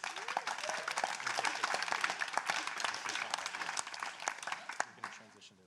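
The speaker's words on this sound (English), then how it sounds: "So one more round of applause." An audience at a London adaptive skateboarding event gives a full round of applause, dense sustained clapping that fades out toward the end, with some voices mixed in.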